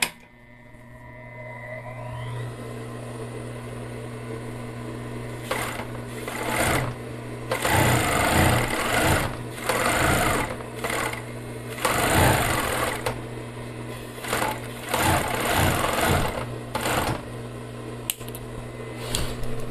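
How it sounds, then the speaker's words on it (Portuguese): Sewing machine stitching bias binding onto a ribbed knit neckline, running in several close, loud bursts of rapid whirring separated by short pauses, over a steady low motor hum. "Eu vou ligar a máquina e vou começar a passar o viés no decote."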